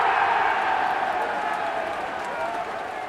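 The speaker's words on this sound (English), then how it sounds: "big round of applause for my next guest" Applause greeting a guest on a podcast, heard as a steady wash of many hands clapping at close range, loud and continuous, gradually thinning toward the end with no voices standing out.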